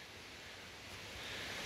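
A waterfall in the foggy Appalachian mountains makes a faint, continuous broadband rush, steady and somewhat distant, swelling slightly toward the end with no voices.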